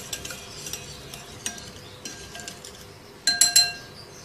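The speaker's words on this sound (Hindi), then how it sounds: "तमाम मसालों को दही में अच्छी तरह से मिक्स कर लेंगे" A spoon mixes spices into yogurt in a bowl, giving soft, irregular scraping and light clinks against the bowl, then a few louder, sharper clinks near the end, with no talk.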